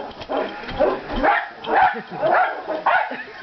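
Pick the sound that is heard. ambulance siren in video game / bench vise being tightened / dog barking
dog barking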